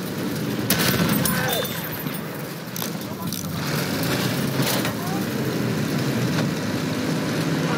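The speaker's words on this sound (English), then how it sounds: "Machine gun!" Machine gun fire in Battlefield 1 during a Conquest match: sharp bursts of rapid shots over a loud battlefield rumble of vehicles and engines, with soldiers shouting throughout.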